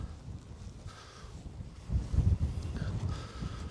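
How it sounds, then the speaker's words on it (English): Wind on a Lake District hill buffets a microphone in low rumbling gusts, swelling stronger midway, with a faint rustle in the background and no voices. "and the wind is gusting"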